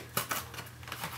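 Cardboard box pulled open by its tear tabs: a few crisp tearing and scraping bursts over about a second, close and fairly quiet, with a steady low hum underneath.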